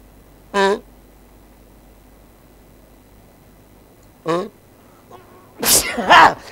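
Sneezes in a Greek Karagiozis shadow puppet play come as short sharp bursts spaced apart, the last two close together and louder, likely voiced by the puppeteer imitating the sound.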